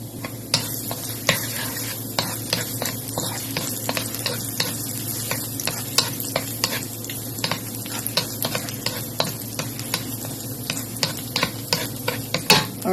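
Garlic fries in hot oil in a pan with a steady close sizzle, while a utensil stirs and scrapes against the pan in frequent sharp clicks throughout.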